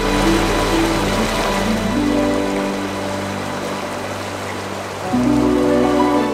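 Cascading waterfalls at Plitvice Lakes in Croatia make a steady, full rush of falling water that stays loud throughout, with no voices over it.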